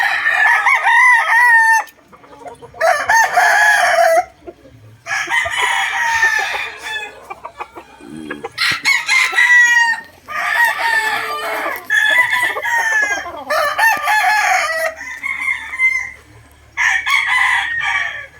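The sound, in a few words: rooster crowing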